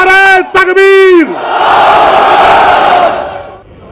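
A large crowd at a political rally about the Gyanvapi mosque roars a Takbir slogan in unison, a long swelling mass shout following a sustained lead call and fading after about three seconds.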